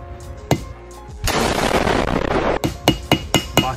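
A couple of sharp hammer knocks, a stretch of rushing noise, then a run of quick, uneven taps of a small hammer on tape over a Volkswagen 1.8T 20V engine, close by.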